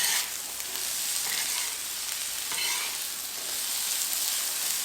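Shrimp stir fry sizzling steadily on a Blackstone griddle, a loud constant hiss with scraping and tossing sounds mixed in, close up with no talking.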